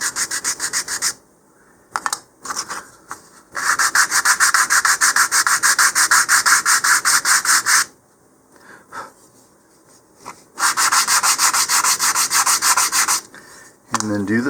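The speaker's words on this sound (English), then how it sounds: "then I'm going to come back, sand the edges again" Sanding the edges of a model rocket kit part, steady rapid back-and-forth scratching strokes in several long bursts separated by brief pauses, loud and close.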